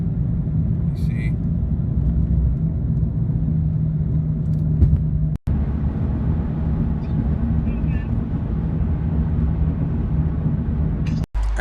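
Lexus GS430 fitted with a GS300 differential cruising on the road, a steady low rumble of engine and tire noise with wind buffeting, constant and close throughout, broken by a couple of brief dropouts.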